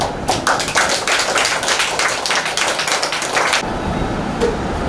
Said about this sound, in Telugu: తప్పట్లు కొట్టండి.